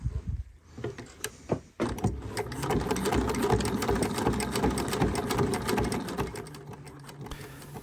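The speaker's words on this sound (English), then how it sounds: "Spin this around, do another row of stitching." Sewing machine stitching a row on a fabric bag: after a few clicks and bumps, a steady close whirring hum runs continuously to the end, with no talk.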